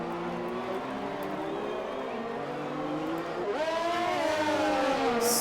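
Race cars in a sim racing game going wheel to wheel toward a final chicane, engines droning steadily with rising and shifting pitch as they accelerate, loud and continuous throughout.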